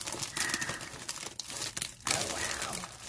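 Plastic packaging crinkles and crackles as it is cut open and handled up close, with bursts of rustling and a brief pause partway through, quiet overall.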